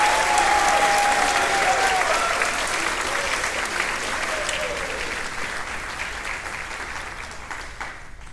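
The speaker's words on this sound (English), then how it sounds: "just quickly give DJ a big round of applause out there in the booth" Big round of applause from a school spring concert audience, thick continuous clapping that starts loud, with a brief cheer early on, and gradually tapers toward the end.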